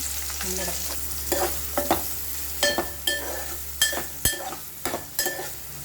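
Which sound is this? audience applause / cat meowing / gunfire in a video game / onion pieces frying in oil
onion pieces frying in oil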